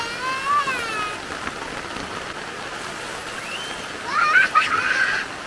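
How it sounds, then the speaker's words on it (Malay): Midnight rain patters on a leaking camping tent in Karak, Pahang, a close, even drumming of drops with a few faint high whistling tones drifting over it. "Hujan tengah malam pula."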